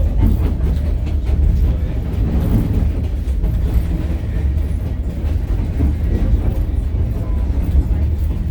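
The White Pass Scenic Railway excursion train in Skagway, Alaska, heard from aboard: a loud, continuous low rumble of wheels and carriages with faint rhythmic clatter, steady throughout, with murmuring passenger voices mixed underneath.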